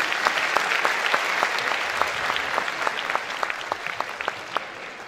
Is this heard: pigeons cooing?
no